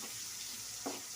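Green chilies and garlic hit hot oil and fry with a soft, steady sizzle, a brief quiet hiss and one small spatter near the end, with no voices.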